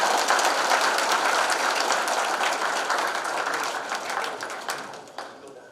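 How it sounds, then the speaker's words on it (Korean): Applause from attendees at an annual general meeting, a broad wash of clapping hands that holds steady and then gradually thins and fades over the final seconds. "다시 한번 뜨거운 박수 부탁드립니다"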